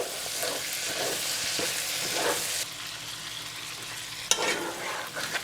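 Spices, cinnamon and black cardamom with red chilli powder and salt, fry in oil for Lahori mutton karahi while a spoon stirs them, giving a steady close sizzle with scraping strokes and a sharp clack near the end.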